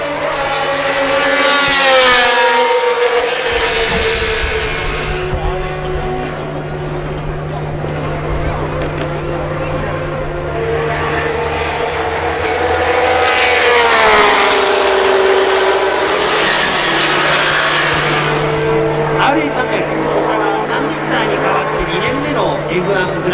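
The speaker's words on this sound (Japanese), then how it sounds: "今回はジョン・サーティースの乗っていたマシンがこの茂木で走っています。" A 1967 Honda RA300 F1 car, once driven by John Surtees, runs at Motegi, its loud high-revving engine rising and falling in pitch over two passes, with a steady low drone underneath and a voice talking over it.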